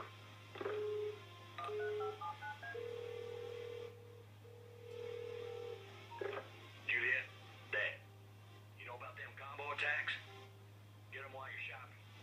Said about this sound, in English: Let's take the phone call